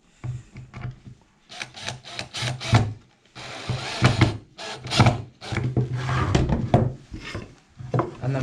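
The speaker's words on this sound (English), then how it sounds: "Back on the drill." A power drill whirs and grinds into wood in a series of short, loud bursts with brief pauses, the motor hum running under each push.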